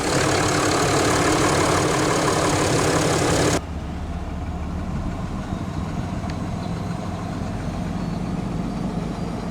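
A 2021 Ram 2500 Big Horn crew cab pickup with the 6.7 Cummins diesel fires up loudly and close, then drops into a steady, lower rumbling idle that continues to the end.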